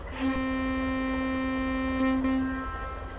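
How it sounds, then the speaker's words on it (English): A GE B40-8B locomotive horn in Train Simulator Classic sounds one steady, sustained blast of about two and a half seconds at modest volume. "So it seems there's two different horn sounds."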